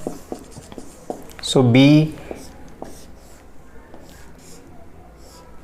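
A chemistry teacher writes a letter on a board: faint, scattered taps and short scratches, interrupted by a brief spoken word.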